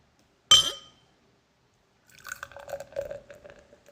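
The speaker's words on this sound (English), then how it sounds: "let's pour it up and see how this beer looks" Sierra Nevada Otra Vez, a gose-style beer brewed with coriander, is poured into a glass. A sharp clink sounds first, followed after a short pause by a quieter, uneven trickle and splash of liquid that lasts about two seconds.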